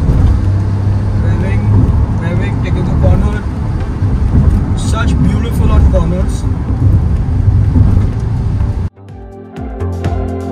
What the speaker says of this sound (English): Now to fourth gear, revving the car again, revving, taking the corner.